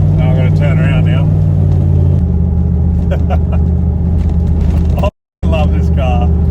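A muscle car engine drones loudly and steadily on an airstrip at Cootamundra, with a low rumble that shifts pitch partway through and cuts out briefly near the end. Speech is heard over the engine.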